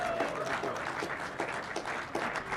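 Steady applause from a crowd at a ringman competition, greeting the newly crowned champion, a dense continuous patter of many hands clapping at moderate distance with no talk over it.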